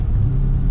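A supercharged Audi S4 engine with a Jackal Motorsports stage 2+ tune gives a quick throttle blip, a deep, loud, close rumbling rev that holds briefly and then cuts off.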